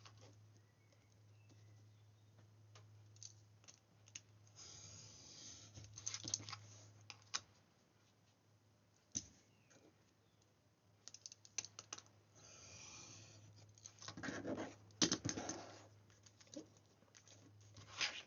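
Craft knife slicing through washi tape strips laid along a picture's edge to form a mat, giving faint scattered ticks and scratchy cuts over a steady low hum, with a few louder bursts, no speech.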